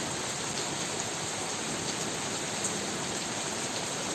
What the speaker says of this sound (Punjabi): ਮੈਂ ਪਿੰਡੋਂ ਨਿਕਲਿਆ ਤੇ ਮੀਂਹ ਆ ਗਿਆ